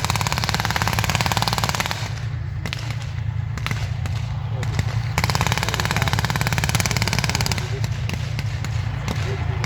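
Machine guns fire suppressively during a British Army display by the Royal Armoured Corps at Tankfest, with rapid sustained bursts and crackling reports that continue for several seconds, loud and outdoors, with voices talking underneath.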